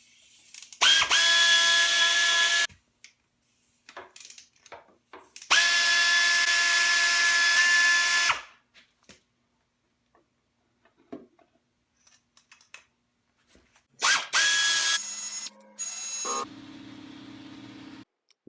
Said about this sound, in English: Remove the cylinder head covers.